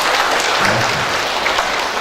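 A hall full of graduates and guests at an economics faculty graduation ceremony breaks into loud, sustained applause, a thick wash of clapping that stays steady throughout, with a faint murmur of crowd voices underneath.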